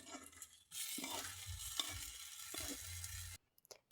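Chili powder sizzling in hot oil in a pan for a chicken curry, a steady close frying hiss broken by scraping stirs, then a sudden drop to near silence at the end.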